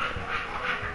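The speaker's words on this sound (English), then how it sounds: "Might be able to hear my dog." A big, heavyset female bulldog gives a faint, brief whiny snuffle over a steady background hum.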